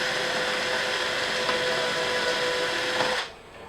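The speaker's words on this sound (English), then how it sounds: "Let's drill this one out just a tiny bit." Power drill boring a small hole in a wooden beehive part, a steady whining buzz running for about three seconds before cutting off abruptly.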